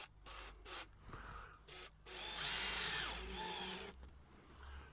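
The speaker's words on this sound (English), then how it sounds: "then just pop a couple of screws in to the fixing" Power drill driving screws into a fixing in a garden, several short whirring bursts followed by a longer sustained run, fairly quiet and close.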